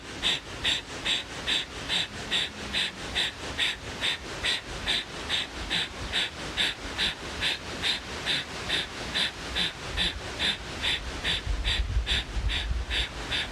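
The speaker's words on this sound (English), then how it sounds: "let's get a little more energy moving here with the breath of fire" Rapid, evenly paced breath-of-fire yoga breathing: sharp, forceful nasal exhales in a steady pulsing rhythm, about two per second, close and clear throughout, with a low rumble creeping in near the end.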